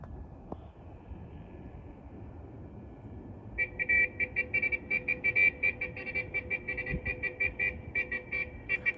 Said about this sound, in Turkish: Bir korna ritim yapacak bana az sonra.